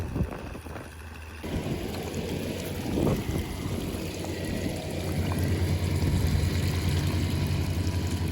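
Fresh water gushes out of a poly pipe, a continuous close splashing rush that grows slightly stronger over time, mixed with some wind buffeting.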